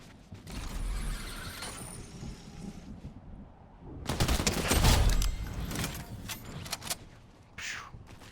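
Burst rifle fire in a video game, heard as clustered mechanical rattles and clacks, loudest in a dense stretch midway, with quieter weapon handling clicks before and after.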